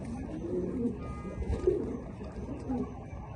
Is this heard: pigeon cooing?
yes